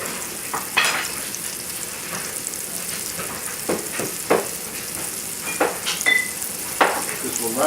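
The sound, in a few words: vegetables thrown into a hot pan, frying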